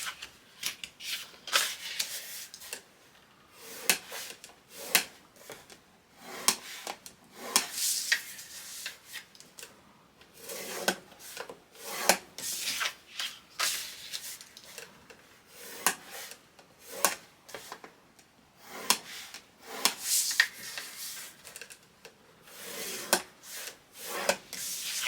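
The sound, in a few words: scoring cardstock for a baby album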